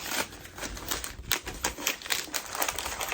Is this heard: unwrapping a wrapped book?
yes